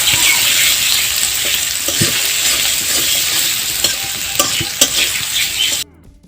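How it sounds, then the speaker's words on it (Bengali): Onion, garlic, chili and tomato frying in a pan, a loud, close sizzle with irregular metallic scrapes and clinks of a spatula stirring, ending abruptly. "এখন সবগুলো উপকরণ কিছুক্ষণ নেড়ে নেব"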